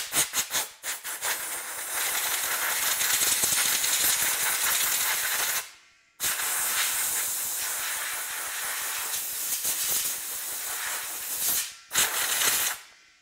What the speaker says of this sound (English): I just take my my compressed air gun and go ahead and blow this out.